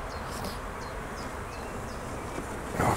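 A swarm of dark European honey bees (Apis mellifera mellifera) buzzing in a box hive, a dense, continuous drone with individual bees whining past close by and a brief louder rustle at the end.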